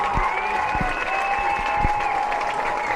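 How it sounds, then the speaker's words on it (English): Crowd at a high school football game, a steady roar of cheering and clapping from the stands, with a sustained horn-like tone running through it and occasional low thumps. "You can hear the crowd cheering."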